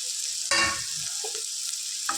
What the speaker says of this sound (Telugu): వేసుకొని ఫ్రై చేసుకుందాం ఫ్రెండ్స్